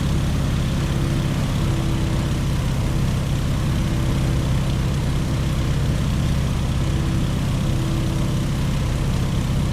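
A Stearman open-cockpit biplane's propeller engine in the Microsoft Flight video game drones loudly and continuously, a steady low, throbbing hum that never lets up.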